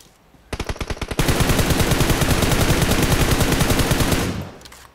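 Automatic gunfire rings out in PUBG Mobile: a short burst of rapid shots, a brief pause, then a long sustained loud volley of fast rounds that fades at the end.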